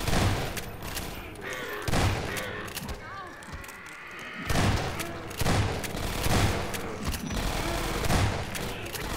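Gunfire against fast zombies in Half-Life 2 Episode 1 crackles in repeated bursts of rapid shots across the clip, with people talking over the game sounds.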